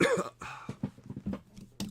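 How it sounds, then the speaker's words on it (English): A man coughs and clears his throat in a few rough, close bursts, broken up by short pauses, with no other sound around them. "Still dealing with this cough."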